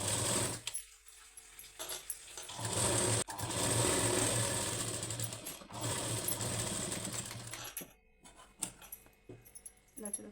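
A sewing machine stitches the back of a boat-neck blouse in long, steady whirring runs, close and fairly loud, with short pauses and light fabric handling between them.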